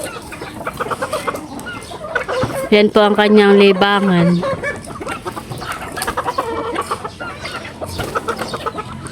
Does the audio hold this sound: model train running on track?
no